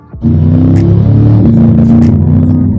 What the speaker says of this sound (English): The power band starts off very smooth and then just blossoms into this outrageous like burst of speed.